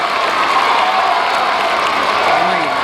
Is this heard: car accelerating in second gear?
no